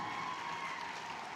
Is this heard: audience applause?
yes